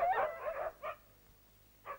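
Tethered sled dogs in Alaska yelping and whimpering, a burst of overlapping cries followed by two short separate yips, fairly close.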